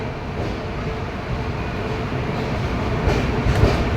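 A train rumbles steadily close by at Madgaon railway station, a continuous low mechanical roar with faint rattling, growing slightly louder toward the end; no voices.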